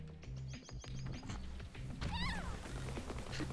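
A pet cat named Nantucket gives a short meow with rising, warbling cries, heard close by over a steady background of video game music and sound effects.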